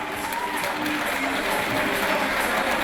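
A crowd at a fighting event applauds the two fighters, dense steady clapping and cheering filling the hall for a few seconds.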